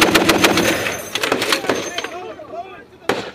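A .50 caliber machine gun fires loud, rapid bursts during a combat ambush, with sharp repeated reports close by and a last heavy shot after a brief lull.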